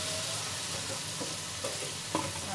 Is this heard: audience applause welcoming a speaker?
no